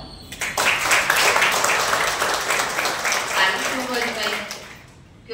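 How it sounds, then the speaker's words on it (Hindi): An audience of Ayurvedic college students applauds at a motivational lecture, a dense burst of clapping starting quickly and carrying strongly for several seconds before tapering off near the end. "आप अपने लिए ताली बजाओ।"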